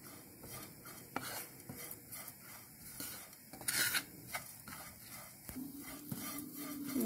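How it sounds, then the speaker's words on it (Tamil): Vadagam roasting in a pan over a low flame, heard as faint scraping and stirring with a soft sizzle and occasional sharp clinks of the utensil against the pan, with no voices. "சிம்மிலே வச்சு வடகத்தை வந்து அப்படியே கொஞ்சம் வறுத்து எடுத்துக்குவோம்."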